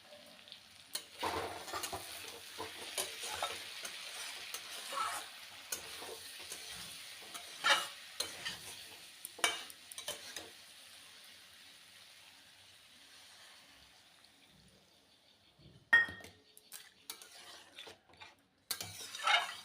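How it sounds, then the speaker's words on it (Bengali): Cauliflower and potato sautéing with spices in a pan, a soft, fairly quiet sizzle with intermittent scrapes and clinks of a stirring spoon against the pan. "তো মশলা দিয়ে কপিটাকেও ভালো করে কষিয়ে নিচ্ছি।"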